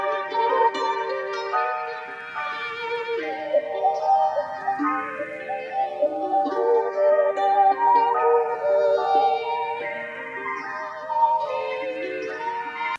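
Andalusian nylon-string guitar sample recorded for a melodic NY drill beat: sustained, layered melodic notes ring steadily at even loudness, with slow sweeping tonal shifts throughout and no voices.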